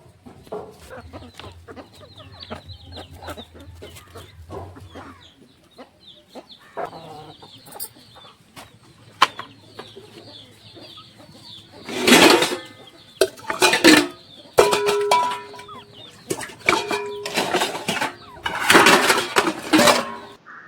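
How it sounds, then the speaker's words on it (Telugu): Chickens cluck and squawk nearby in an outdoor yard while dishes are washed, with soft clucking early on and louder bursts of squawking and flapping later, mixed with light clinks of pots and pans. "గిన్నెలు కడుగుతుంటే మా కోళ్ళు కూడా నాతో పాటు కడగడానికి ఎంత హడావుడి చేస్తున్నాయి"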